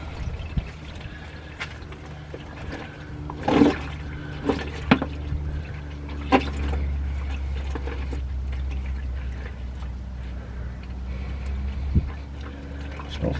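Hot engine oil drains from a 1963 Chevy C30 truck with gloopy chunks, a steady low trickle and pour running throughout with a few louder splashes and clanks, fairly close, with no talk.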